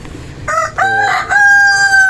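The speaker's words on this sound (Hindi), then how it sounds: "और ये हैं जी मेरे मुर्गे हैं" A rooster crows loudly and close by, one long drawn-out call standing alone with no talking.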